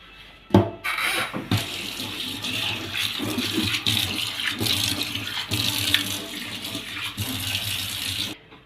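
Tap water runs steadily into a kitchen sink as it is rinsed, a continuous close splashing rush lasting several seconds with small shifts in flow, then cutting off at the end.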